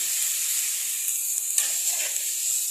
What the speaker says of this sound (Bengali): ইঁচড় আর আলুর সাথে পেঁয়াজ দিয়ে আমি এখন এটাকে ভালো করে একটু কষিয়ে নেব